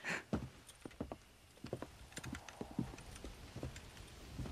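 Horse hooves clip-clop in the Red Dead Redemption video game, a quiet, uneven series of soft knocks at walking pace, fairly faint and without talk.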